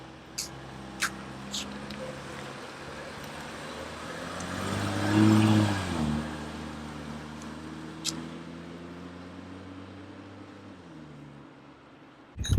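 A lowered 2015 BMW X1 xDrive35i on coilovers pulls away, its engine note swelling briefly as it passes close, then fading into a low steady rumble in the distance, with a few faint clicks around it.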